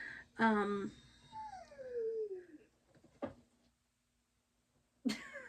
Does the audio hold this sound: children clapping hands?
no